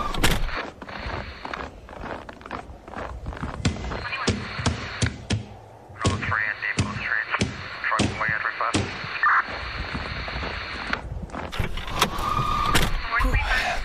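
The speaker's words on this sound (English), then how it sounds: "get out and clack the ice out on the windshield wipers" Sharp knocking clacks of a wiper being slapped against a car windshield to free ice, a string of loud irregular hits repeating over several seconds with cabin and wind noise, outside in a 5-degree blizzard.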